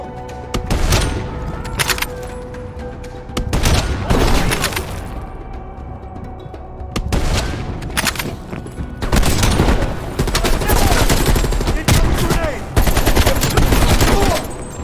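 Heavy gunfire in the Call of Duty Black Ops Cold War campaign: loud, dense automatic bursts and booming impacts that come in waves for the whole stretch.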